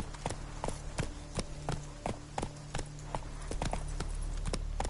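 Roach, Geralt's horse in The Witcher 3, trots steadily with regular hollow hoof clip-clops over a low ambient game drone, close and fairly even in loudness.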